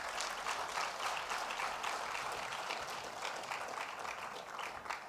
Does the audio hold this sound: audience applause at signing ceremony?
yes